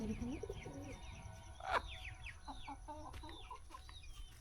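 A rooster clucks softly and sporadically against a quiet outdoor background, with a brief louder squawk midway.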